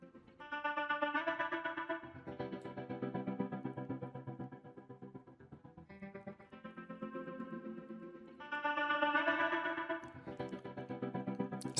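A music track plays back through a Zenbeats Multiverb reverb send effect, its sustained tones washing into a long echoing tail that swells and eases. The sound is continuous and fairly quiet, with no talking.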